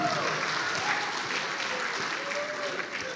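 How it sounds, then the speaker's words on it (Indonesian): Steady applause from an indoor crowd at a Halal Bi Halal gathering of PB IKA PMII, dense even clapping holding at a constant level throughout. "tepuk tangan untuk beliau"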